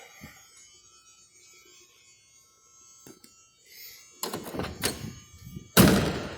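A heavy door of a 1961 Chevrolet Impala shuts with a solid thunk, followed by a second louder slam, close by in a quiet space.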